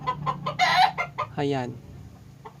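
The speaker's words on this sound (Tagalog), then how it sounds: "Medyo maingay lang po yung mga manok" Chickens and roosters near the camera at a Holy Week gathering in the Philippines cluck in a few quick, loud bursts, with one drawn-out call, as someone speaks briefly.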